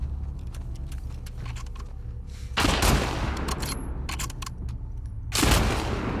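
Gunfire crackles in The Last of Us Part 2 combat on the way to Capitol Hill, with steady distant shots followed by two louder, closer bursts of fire. No one speaks.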